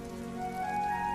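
Steady rain pours during a storm, a continuous wash of drops on a hard surface, close and fairly loud throughout, with a faint tonal hum underneath and no voices.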